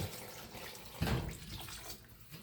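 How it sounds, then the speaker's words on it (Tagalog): Water from a tap runs and splashes into a cooking pot for sinigang na baka, a short steady gush with a sudden louder burst midway, close and alone. "Pwede natin lagyan ng tubig."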